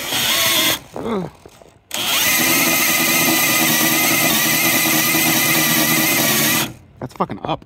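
Cordless drill spinning a trailer jack through a drill adapter, the jack set to low speed for heavy loads; a steady whirring grind for about five seconds, bracketed by brief bursts of someone talking nearby.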